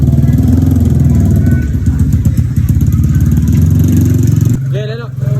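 A motorcycle engine runs loud and close, holding a throbbing, rumbling note with uneven surges of revving. Voices can be heard alongside it during a barbecue outing with classmates.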